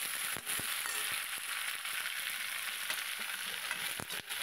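Vegetables frying in a pan while being stirred now and then, a dense steady hiss of oil with a few sharp scraping ticks, close and moderately loud, without speech.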